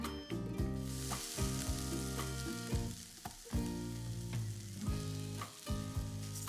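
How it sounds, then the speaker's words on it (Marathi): Grated fresh coconut filling frying in ghee over low heat with cashews and almonds, a steady close sizzle broken by repeated scraping and stirring strokes of a spatula against the pan. "हे सारण आहे ना, एक 7-8 मिनिटं छान परतून घ्यायचं तुपावर मंद आचेवर"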